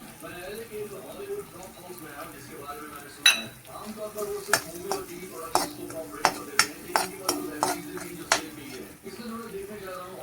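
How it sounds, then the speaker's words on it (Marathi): Goda masala stirred into hot oil with cooked tomato in a pan for a matki usal, a spoon scraping and clinking against the pan in a string of sharp taps over a low sizzle, with faint talk underneath. "आता आपण मटकी घालणार आहोत। गोडा मसाला घालून घेऊया आधी।"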